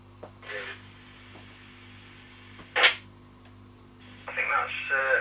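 Another amateur radio station transmitting on the same 1.8 MHz band, heard as a few brief bursts of a different tone through receiver hiss and steady mains hum.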